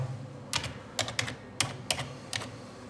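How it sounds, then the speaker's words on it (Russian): A computer keyboard as a surname is typed in during patient entry for a dental panoramic X-ray unit: about six crisp, close keystrokes in an irregular rhythm over a low steady hum, with no talking. "Здесь мы пишем традиционно нашу русскую фамилию в качестве примера Иванов."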